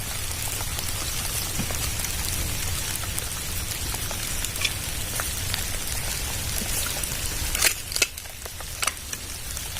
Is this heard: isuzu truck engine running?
no